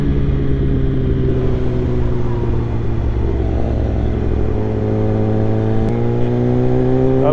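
Motorcycle engines run at an evening bike meet: a loud, steady, close engine drone holds throughout, then climbs into a rising rev near the end, with no talk.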